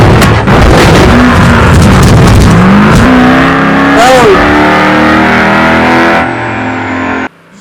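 A tanker truck engine in the BeamNG.drive driving game revs loudly and rises in pitch, with crashing thumps and a voice talking over it before cutting off abruptly.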